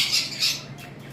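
A female cockatiel gives two sharp, close squawks in quick succession, with no voices around.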